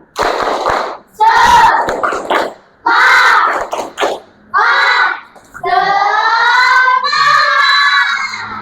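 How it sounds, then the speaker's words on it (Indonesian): A classroom group repeats a rhythmic clapping chant for energy, with sharp clap bursts between loud shouted chant phrases, ending in a sustained cheer from many voices. "Kurang kompak, sekali lagi."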